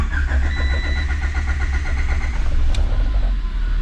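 A car engine cranks with a rapid rhythmic chug and then fires up, running loud and close throughout, with no talk over it.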